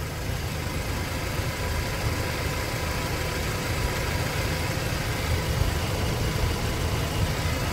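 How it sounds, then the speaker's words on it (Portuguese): A Chevrolet S10 flex-fuel pickup truck's gasoline/ethanol engine idles steadily, a smooth, even low rumble held at constant loudness throughout with no speech. "essa caminhonete tá funcionando, olha só."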